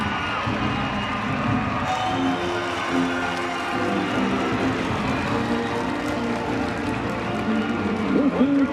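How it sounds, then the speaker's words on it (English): A stadium crowd at a men's college lacrosse quarterfinal between North Carolina and Rutgers roars steadily after a goal, with dense, sustained cheering and a commentator's voice running over it. "The freshman whips this crowd into a frenzy."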